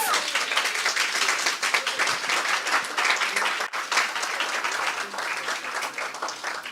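An audience at the SPA National Awards 2024 ceremony claps in steady, dense, continuous applause that stays loud for the whole stretch, without a break.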